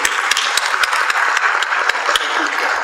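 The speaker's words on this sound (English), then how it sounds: "let us clap for his contribution" An audience at an international forum session in Tanzania applauds a speaker, a dense patter of many hands clapping close and fairly loud throughout, with individual sharp claps standing out.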